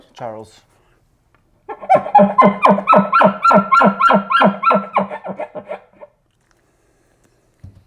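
A man imitates an elk's chuckle call with his voice, a quick-cadence burst of about a dozen rapid, throaty grunting pulses lasting a few seconds, close and loud after a brief spoken word.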